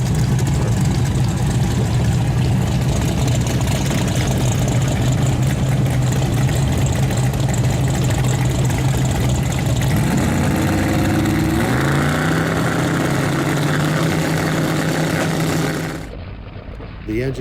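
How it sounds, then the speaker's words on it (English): A drag race car's carbureted engine idles loudly and roughly up close, then rises in pitch as it revs, and near the end cuts off abruptly. "The engine coughed back through the carburetor one time as he was trying to get on the two-step."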